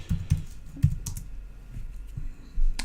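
A command is typed on a computer keyboard in quick, uneven bursts of clacking keystrokes, close and fairly loud, with short pauses between clusters and no talking.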